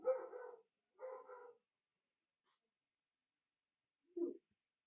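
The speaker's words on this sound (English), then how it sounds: "They're probably going to still bark in the background for a little bit." Dogs barking in the background, two short clustered bursts of barking, then a long quiet gap before one more brief yelp, fairly faint and distant.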